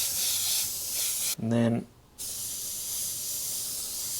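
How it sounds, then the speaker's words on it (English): An airbrush sprays paint in a steady, close hiss while shading the edges of a tree and moon landscape. The hiss breaks briefly as someone speaks, then resumes. "gradually spraying that in"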